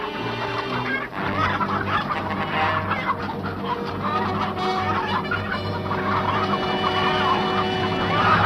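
Chickens on a farm near a barn cluck busily and continuously, close and fairly loud, in a 1960s war drama scene with background score.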